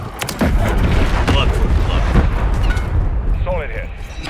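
A missile strike in Call of Duty Modern Warfare 3 multiplayer lands as a loud, sustained rumbling blast that rolls on for several seconds, with faint voice chatter and electronic chirps near the end.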